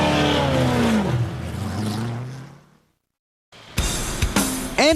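NASCAR Winston Cup race cars at Chicagoland Speedway in Joliet, Illinois, for the 2002 Tropicana 400: a loud engine drone fades out into a brief silence, then sharp, close revving bursts crackle back in.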